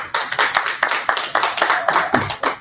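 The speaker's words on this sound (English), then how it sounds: "Everybody gives Keiah a round of applause." A small audience claps for a speaker at a community program gathering, a few close pairs of hands beating in a fairly regular, rhythmic pattern of distinct sharp claps.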